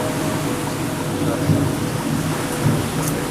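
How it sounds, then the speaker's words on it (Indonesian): Low thunder rumbles steadily beneath a wash of rain, with a couple of slightly heavier rolls. "Geledek guys, geledek."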